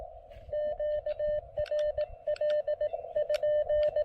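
Morse code keyer sidetone from a Xiegu G106 QRP radio set to about 18 words per minute: a steady mid-pitched beep keyed in short dits and longer dahs in a continuous rhythmic stream, clear and alone.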